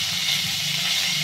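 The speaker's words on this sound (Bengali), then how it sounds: "এখন আমি পেঁয়াজ কুচি দিয়ে দিচ্ছি।" Chopped onions go into a hot pan of spiced oil for sambar, giving a steady, close, hissing sizzle that runs unbroken from start to finish with no voices.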